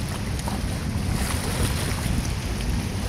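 A fast boat speeding across Manila Bay, its loud steady engine and rushing water blended with wind buffeting the microphone, continuous and close throughout.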